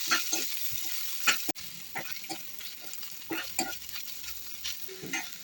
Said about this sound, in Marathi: पुन्हा त्याच कढईत अजून एक चमचाभर तेल घालते आणि त्याच्यामध्ये हा कांदा आपल्याला छान ब्राऊन होईपर्यंत भाजून घ्यायचा आहे